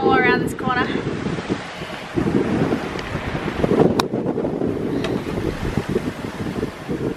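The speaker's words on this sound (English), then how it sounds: "Hoisted the mani, we got 16 knots of wind." Steady rushing wind roars across a sailboat under a freshly hoisted mainsail in 16 knots of breeze off the New Zealand coast, loud and constant, with a brief voice near the start.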